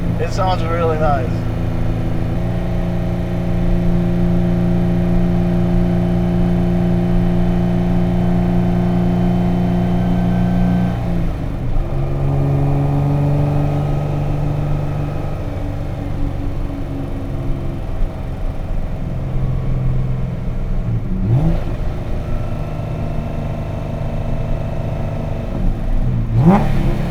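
Boosted Nissan NISMO engine heard from the cabin, droning loud as it accelerates and revs through several long pulls with brief shifts between them, while people talk over it.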